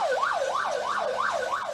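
An ambulance siren wails in a steady, rapid up-and-down cycle, repeating about every third of a second. It is moderately quiet and heard alone, without voices.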